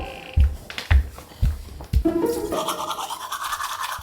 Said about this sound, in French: Je vais me laver les dents d'abord.